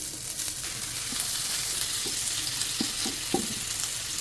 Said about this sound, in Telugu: కళాయి పెట్టుకోండి చాలా కొంచెం నెయ్యి ఇప్పుడు తురుముకున్న కొబ్బరి బీట్రూట్ బెల్లం మూడు వేసేసుకోవాలి